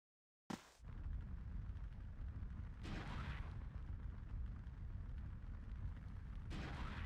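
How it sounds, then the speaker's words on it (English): A sudden squishy blast from Sonic Adventure DX hits right after silence, then a rumbling roar lingers, with two more swelling bursts rising later over the continuing noise. "I will never understand the squishing, exploding sound effect"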